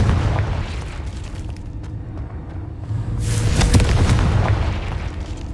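A Confringo spell explodes in the Hogwarts Legacy video game, a loud booming blast with a rumbling low-end tail that swells and lingers, with no voices.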